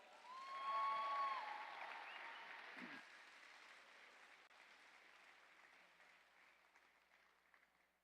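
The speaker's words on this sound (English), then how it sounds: "Give him a round of applause from the United States." An audience at the WDF World Cup darts opening ceremony applauds a newly elected president, steady clapping from a crowd in a hall that swells early, then gradually thins and fades over several seconds.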